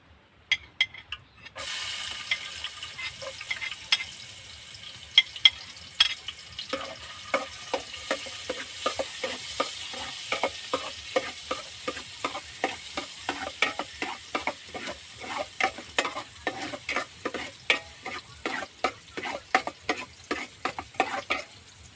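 Garlic fries in oil in a pan and is stirred, giving a continuous close sizzle with quick scraping strokes of a spatula repeating throughout, starting after a short quiet moment. No one talks.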